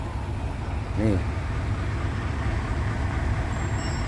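Three heavy trucks towing a stranded iso tank trailer truck during a recovery, their engines a steady low rumble throughout, with a brief voice near the start and other talk over the roadside noise.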